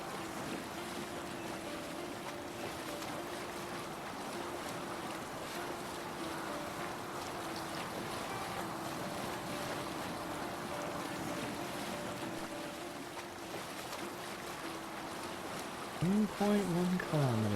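Viking longship sailing on water in Assassin's Creed Valhalla near the docks of Jorvik, a quiet steady wash of water and wind under a low hum, with a voice briefly at the end.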